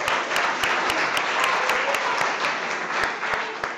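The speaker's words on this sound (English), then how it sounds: "Big round of applause to Jeff Thornsberry." An audience applauds a chef at a cooking competition showdown, a dense, sustained burst of clapping, loud and close, with no voices over it.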